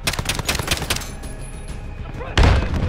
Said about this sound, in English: Oh, that was a grenade.